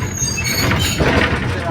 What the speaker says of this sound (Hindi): ये टॉय ट्रेन का सफ़र था यहाँ तक का